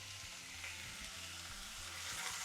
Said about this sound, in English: all you need to do is just really quickly saute them off